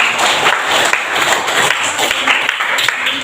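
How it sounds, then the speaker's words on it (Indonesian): A classroom of students applauding together, a brief burst of dense, close clapping that stays fairly even for a few seconds. "Jadi tepuk tangan untuk kita semua"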